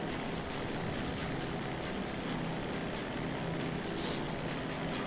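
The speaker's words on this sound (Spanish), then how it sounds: "Pues hay un helicóptero." A helicopter in the video game GTA V gives a continuous, even engine-and-rotor drone at low volume with no breaks, heard alone throughout.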